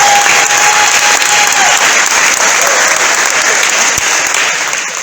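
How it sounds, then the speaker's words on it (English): An audience claps throughout at a Minnesota Republican gubernatorial debate. The applause is loud and continuous, holds steady, and eases slightly just at the end. "They did a good job. Let's give it a round of applause."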